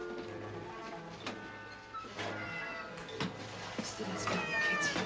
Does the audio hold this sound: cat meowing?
yes